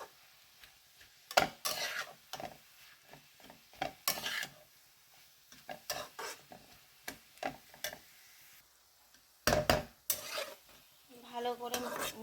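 Greens with salt and turmeric are stirred in a pan with repeated scraping and clanking utensil strokes in irregular bursts, close and distinct, with a faint sizzle between strokes.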